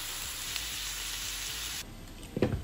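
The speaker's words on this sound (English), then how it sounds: "fry some ripe plantain, and I'm gonna cook these like a light stir fry" Cassava and ripe plantain in a light stir fry give a faint, steady sizzle in the pan, a soft stir or two, and a brief clatter at the end.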